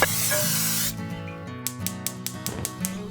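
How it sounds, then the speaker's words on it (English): A steady hissing spray of non-stick cooking spray into a 9 by 13 inch baking dish for about a second, followed by a run of light ticking clicks. "I'm using non-stick cooking spray."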